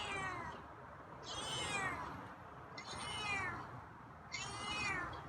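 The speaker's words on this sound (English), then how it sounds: "Yeah, got some meows for me today." A feral cat outdoors gives four drawn-out, wavering meows at a steady pace, faint and somewhat distant over a soft background hiss.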